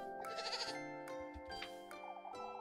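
A goat bleats several times in quick succession, loud and close, with wavering, nasal cries and short pauses between calls.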